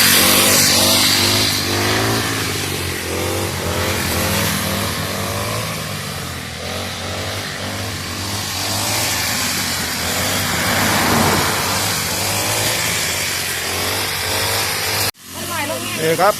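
A small two-stroke brush cutter engine drones steadily and loud throughout, its pitch wavering, until it cuts off abruptly near the end.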